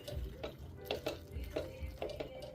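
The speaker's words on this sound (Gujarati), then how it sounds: "મગ નાખી દીધા, હલાવી દેવાનું અને 2 મિનિટ તમે બોઇલ આવવા દો" A spoon stirs boiled mung beans in a pan for a Gujarati-style mung dish, making soft rhythmic scraping and wet sloshing strokes about twice a second, close and fairly quiet.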